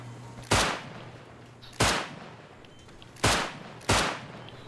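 Four loud, sharp gunshots in the survival game Rust, spaced roughly a second or more apart, each cracking out and then decaying over a low steady hum.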